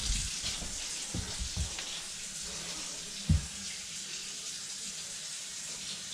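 Water runs from a household tap after a clogged filter is changed, a steady moderate hiss with a few brief knocks and splashes.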